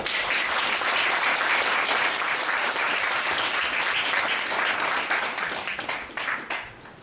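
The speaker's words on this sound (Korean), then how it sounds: "바쁘신 가운데도 귀중한 시간을 내주신 우리 김정석 회장께 다시 한번 박수를 부탁드립니다." Audience applause at a lecture event for Chairman Kim Jeong-seok: dense, steady clapping from a large crowd that holds strong for most of the stretch, then thins into scattered claps near the end.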